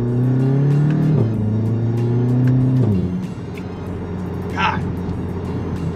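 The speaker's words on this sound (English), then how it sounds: "hearing the intake, hearing the turbo spool a little bit, hearing the exhaust" A modified VW GTI accelerates hard, its engine note climbing through two quick gear shifts with turbo spool and exhaust rasp, loud and close, then settling into a lower drone.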